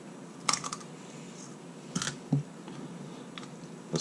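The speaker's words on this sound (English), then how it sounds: "get our kitchen scissors and we'll just cut along" Kitchen scissors cut along the backbone of a raw quail, producing a few sharp, close snips and crunches separated by short pauses against quiet background.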